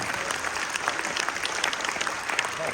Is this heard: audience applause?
yes